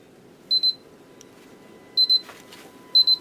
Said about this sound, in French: Je vais arrêter lui parce qu'il nous casse les pieds à biper.